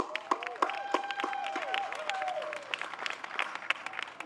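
Quick round of applause from an outdoor crowd at a Cuyahoga River event on the harbor, dense clapping with a few sharp claps standing out, moderately loud and steady for about four seconds, a faint tonal whine sweeping underneath.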